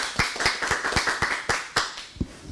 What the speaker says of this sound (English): Let's give our scholars a great round of applause.